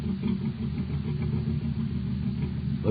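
A cosmic surface car's engine runs in a vintage radio drama, a steady mid-pitched idle with slight rhythmic pulsing, close and alone, heard through narrow, old broadcast-quality sound.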